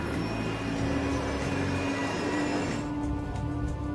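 An Airbus A380 airliner drones steadily at takeoff, a continuous loud cabin engine roar with a sustained tonal whine, heard from inside the aircraft without talk.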